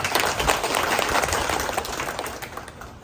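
A crowd claps steadily throughout, the sustained applause fading slightly toward the end.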